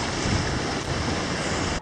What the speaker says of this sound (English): The waves are crashing into this island.